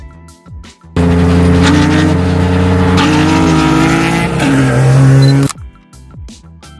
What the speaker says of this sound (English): today's CJ's Honda Civic with the J swap